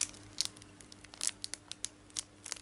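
Scissors cutting open the crinkly plastic wrapper of a seaweed snack bar packet: a series of sharp snips and crackling tears in uneven bursts, close and clear, with no one talking.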